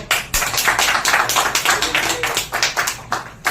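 A crowd claps for a Bhojpuri folk singer's performance at a live stage show, loud and close, with dense overlapping claps that swell in uneven bursts for several seconds.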